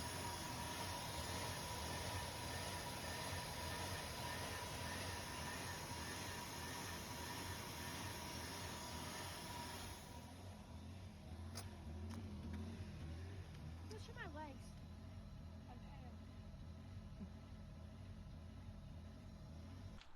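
A 2001 Nissan Pathfinder engine runs unevenly, its tone wavering and surging for about ten seconds, then drops to a quieter, rougher idle with faint clicks.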